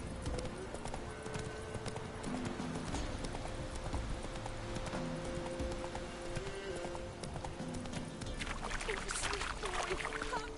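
Roach the horse from The Witcher 3 trots with steady, close hoof clip-clops across the whole stretch, a game voice speaking over the hoofbeats.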